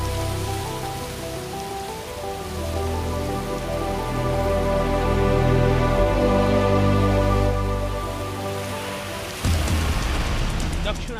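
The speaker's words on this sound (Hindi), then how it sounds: "दक्षिण अमेरिका में बारिश का प्रहार।" Heavy rain pouring down in South America, a dense, continuous hiss of downpour at steady loudness, swelling slightly midway, with a low rumbling undertone and an abrupt shift near the end.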